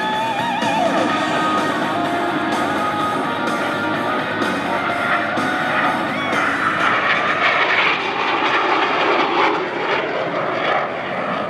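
An A-37 Dragonfly jet at an airshow making a strafing run, its engines giving a loud, continuous roar that swells and shifts in pitch as the aircraft passes close by, with no pauses.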